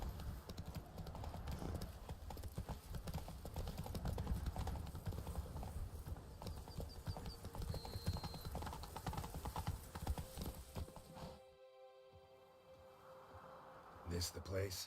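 Roach, the horse in The Witcher 3 video game, trots with steady rhythmic clip-clopping hooves and a faint whinny, mostly under game music and voices, then the hoofbeats cut off briefly near the end before sound returns.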